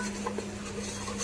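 Tomato paste being stirred and sautéed in oil for chicken biryani: a soft, close scraping and stirring with faint sizzle, with occasional light clinks of the spoon against the pan.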